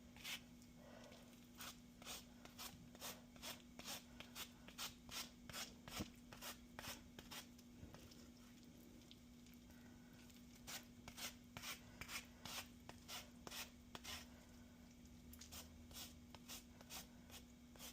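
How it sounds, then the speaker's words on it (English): Zesting an orange over a bowl while making cranberry sauce, with soft rhythmic rasping strokes repeating steadily and quietly over a faint constant hum, with no talk. "And then I'm going to zest this."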